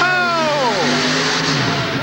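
A 4WD pulling truck engine at wide open throttle during a 1989 truck pull in Worcester, MA, a loud roar whose pitch sweeps downward as it strains, with a voice faintly present.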